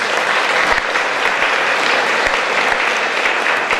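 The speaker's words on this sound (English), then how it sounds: "Please give him a round of applause" Steady, loud applause from a gala audience at Radio Soleil's 20th anniversary celebration, many hands clapping in a continuous dense wash with a few sharper nearby claps standing out.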